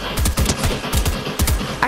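Rapid bursts of SMG fire from Fortnite, a string of sharp close shots in quick groups with brief gaps, loud and filling the whole moment with no talk.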